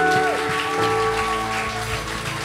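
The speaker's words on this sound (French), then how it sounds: "Est-ce qu'on peut quand même les remercier par les acclamations?" Applause at a Sunday church baptism thanks a couple: a dense, steady patter of clapping from a crowd fills the room throughout, with sustained tones ringing underneath.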